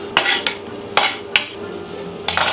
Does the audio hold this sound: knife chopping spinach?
yes